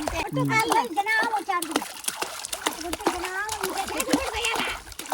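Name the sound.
child splashing water while swimming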